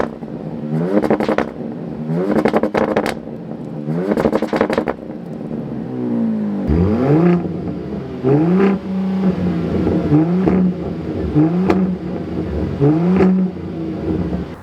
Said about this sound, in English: Quick exhaust clip on both of them. RHO first clip, Raptor second clip.